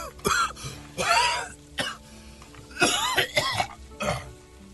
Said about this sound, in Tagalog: rinig na rinig ko yung ubo mo hanggang sa opisina ko